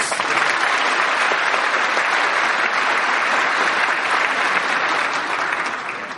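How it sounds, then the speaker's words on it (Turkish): Sustained loud applause from a large audience at a panel introduction, dense and even clapping that carries on for several seconds before tapering off slightly at the end. "hukukçu avukat Sayın Kadir Akbaş için alkışlar"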